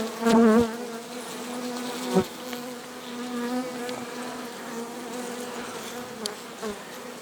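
A steady, droning hum of many bees buzzing close by, with louder individual buzzes passing near now and then.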